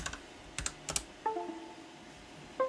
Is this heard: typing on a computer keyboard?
yes